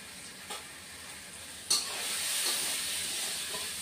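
Turmeric, Kashmiri chilli and cumin powders sautéing in hot oil in a pan for tangra fish curry, giving a steady close sizzle that rises sharply after a brief stir and continues hissing loudly, no voices.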